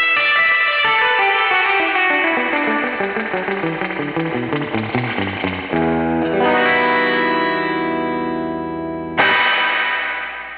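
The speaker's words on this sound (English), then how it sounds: "If you listen closely, it almost sounds percussive and echo-like." Electric guitar played through a standalone Fender reverb tank, giving a drippy surf tone: a loud run of picked notes with a wet, percussive, echo-like wash, then sustained ringing chords and a fresh strum near the end, no voices.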